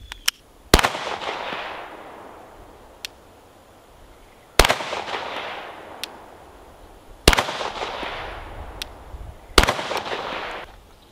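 Handgun fitted with a red dot sight fired outdoors at a distant target: four sharp, loud single shots spaced a few seconds apart, each followed by a long rolling echo.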